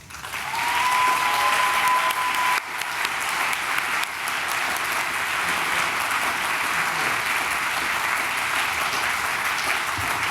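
Audience at a Harvard GSD Class Day lecture clapping to welcome the lecturer Teju Cole, a steady loud round of applause that lasts the whole stretch without a break.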